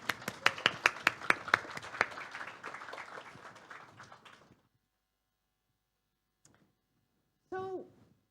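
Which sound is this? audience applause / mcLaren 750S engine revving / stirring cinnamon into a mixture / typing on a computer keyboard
audience applause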